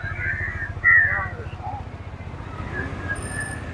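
A small auto rickshaw engine putters with a rapid, throbbing rhythm close by as it approaches in Thiruvannamalai, while people talk over it.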